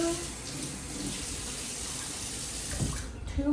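Warm water runs from a kitchen tap into a cup, a soft steady hiss and splash at moderate distance that shifts slightly near the end as the cup fills.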